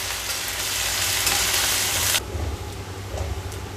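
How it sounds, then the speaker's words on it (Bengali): Garlic paste and a dried red chilli fry in hot oil for a taro-leaf dish, a loud close sizzle that suddenly drops to a softer crackle midway, with light stirring and no talking. "দিয়ে দিচ্ছি রসুন বাটা, রসুনটা একটু লাল লাল করে ভেজে নিচ্ছি।"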